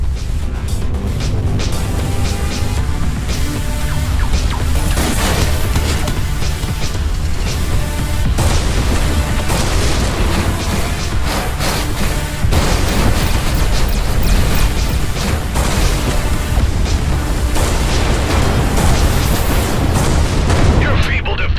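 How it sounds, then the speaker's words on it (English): Incoming torpedoes explode during Everspace 2 space combat, a continuous barrage of heavy booms and crackling impacts layered under loud game music and effects, with voices speaking over it. "Torpedoes are incoming."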